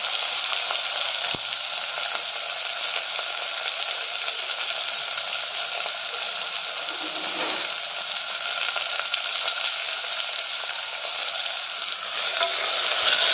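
Onion, garlic cloves, potato, carrot, tomato and green chillies with cumin sautéing in a pan, a constant close hiss of sizzling oil with faint stirring, unbroken for the whole stretch.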